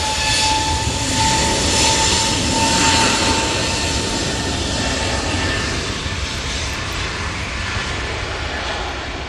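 An Airbus A320neo jet airliner departs Manchester Airport in stormy, windy weather, its engines producing a loud, steady, broadband roar that stays strong throughout and eases slightly toward the end, with no talk over it.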